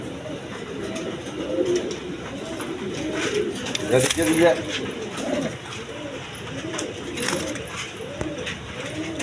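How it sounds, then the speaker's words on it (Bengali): Pigeons coo steadily with repeated low rolling calls, several birds close by, while someone talks over them. "একদম ছট পড়া কবুতর"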